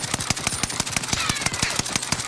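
A BAR rifle in Warzone fires rapidly and repeatedly, a loud, evenly spaced string of sharp shots with no pause throughout.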